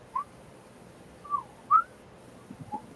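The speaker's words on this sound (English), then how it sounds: "whistle and hum at the same time." A person whistles a few short, gliding notes while humming underneath at the same time, with separate soft tones toward the end, heard alone at close range during a late-night comedy show.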